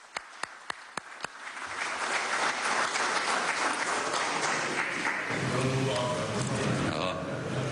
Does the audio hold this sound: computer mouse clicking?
no